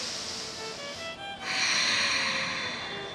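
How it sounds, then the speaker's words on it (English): Deep yoga breathing in Vajrasana: a long, close, airy breath rushes through the nose, pauses briefly, then a louder, fuller breath follows, with no speech. "from here we'll inhale and exhale first"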